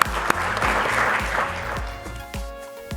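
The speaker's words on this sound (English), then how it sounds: "Could we get a round of applause for our excellent panel?" A panel audience at a urology residents' forum gives a short burst of steady applause, fairly close, with a few sharper claps.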